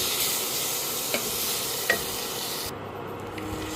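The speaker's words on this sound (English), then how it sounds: "add a tablespoon of ginger garlic paste and saute well till the raw flavor of ginger garlic goes off" Ginger garlic paste sautéing and being stirred in a pan, giving a steady soft sizzle with a few light scrapes of the spoon against the metal.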